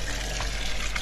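Water gushes steadily from a tap for a short moment, close and continuous with no talk.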